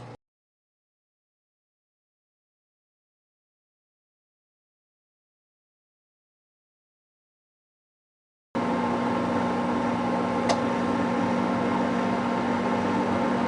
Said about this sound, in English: it sounded like the fan just adjusted